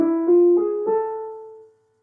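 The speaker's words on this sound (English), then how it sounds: "this is what an A harmonic minor scale would sound like" An A harmonic minor scale is played on a tuned instrument, with a few clear pitched notes stepping quickly upward before the last one rings out and fades to silence.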